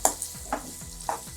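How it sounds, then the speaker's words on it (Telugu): Boiled broad beans fry and are stirred in hot oil in a pan for a Telugu pachi karam curry, giving three short scraping stirs over a soft steady sizzle. "మనం ఈ ఆయిల్లో మనం ఉడకబెట్టుకున్న చిక్కుడుకాయలు ఒక 2 నిమిషాలు వేగాలి. బాగా కలిపెట్టుకుందాం."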